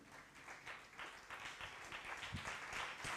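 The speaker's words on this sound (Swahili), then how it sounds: "tupigie Yesu makofi mazuri tunaposimama" Church congregation applauding at a Sunday service in Kitengela, standing to clap for Jesus: a fairly quiet, continuous wash of many hands clapping at a steady level for about three seconds, with no talk over it.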